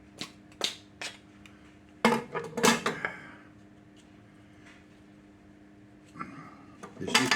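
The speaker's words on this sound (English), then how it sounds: "And get the lid open on it." A plastic lid popped and pried open on a container of sweetened condensed milk in a home kitchen, a few sharp clicks and snaps in bursts with quiet gaps between.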